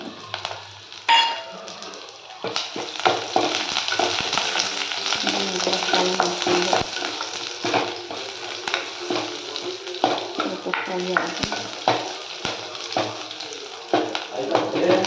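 Ginger, garlic and curry leaves fry in oil with steady sizzling and spattering throughout, with occasional scrapes and clanks of a utensil stirring in a pan.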